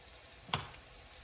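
Garlic and shallots hit hot oil in a home kitchen pan, giving one short, soft sizzling burst that quickly fades against a quiet background.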